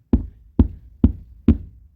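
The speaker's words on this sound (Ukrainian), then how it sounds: "Чуєте, хтось стукає у двері." Four firm, evenly spaced knocks on a door, close and clear with a short resonant decay after each, nothing else heard.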